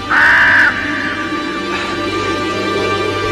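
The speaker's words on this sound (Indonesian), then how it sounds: "Paman Rajawali bukan burung sembarangan." An eagle gives one loud, harsh, drawn-out call at the start, followed by a low steady background hum.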